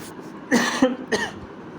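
A couple of harsh coughs close to the microphone, a rough throaty burst followed by a shorter second one, with no talking.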